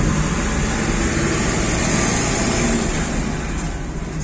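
A car driven slowly during a driving lesson, its engine giving a steady, continuous low hum with road noise throughout, close and even in level.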